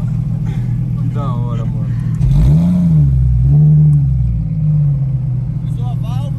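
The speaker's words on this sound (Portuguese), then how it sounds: "O som do carro barulhenta, né?" A sports car with its exhaust valve open in Sport mode rumbles nearby, then revs hard in two deep surging bursts before settling back to idle, with people talking excitedly over it.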